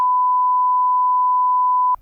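A steady censor bleep, a pure electronic tone held for about two seconds, loud and alone, cutting off abruptly at the end.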